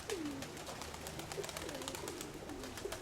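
Low, rolling pigeon coos from a young white dove repeat several times over a constant hiss and scattered clicks, the bird fairly close.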